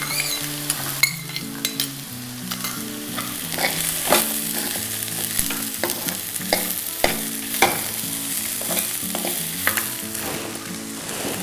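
Chopped beans stir-fried in a pan for a diabetic-friendly vegetable upma, with steady sizzling and frying under repeated spatula scrapes and stirring clinks against the pan, loud and continuous with no talking.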